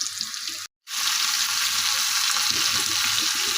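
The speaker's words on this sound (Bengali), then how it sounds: "ভালোগুলো আলুগুলো ভেজে নিয়ে আসছি" Potatoes fry in a pan with a loud, continuous crackling sizzle, broken once by a split-second gap of silence early on, then resuming just as strong; no talking.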